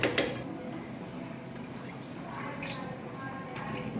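Water pours steadily into a pot of rice for pulao cooking with eggplant, tomato and spice base, a continuous close liquid rush and trickle lasting several seconds.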